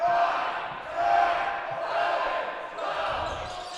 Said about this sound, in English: And now the crowd's getting the free throw count going.